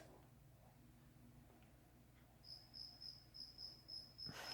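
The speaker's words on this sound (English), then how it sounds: "a cricket sounds like it's in my freaking bedroom" Crickets chirp in a steady pulsing rhythm, starting faint and growing clearer after a couple of seconds, against a quiet night background.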